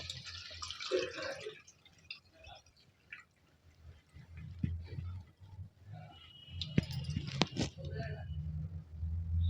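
Water pours and trickles off soaked semolina in uneven splashes, close by, with a person talking over it and some clinks near the end.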